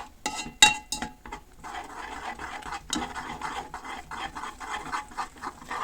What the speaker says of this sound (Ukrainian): в киплячі вишні, додаю столову ложку крохмалю і швидко-швидко перемішуємо це все